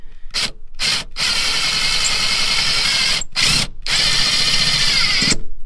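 A power drill fitted with a small bit whines steadily at close range on a VW T5 van, running in sustained bursts broken by a few short pauses.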